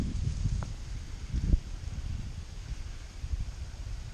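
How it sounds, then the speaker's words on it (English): Wind rushes through winter woods on Quaker Hill as a low, steady rumble, with faint rustling and a few soft knocks, and no voices. "I can hear the wind picking up now"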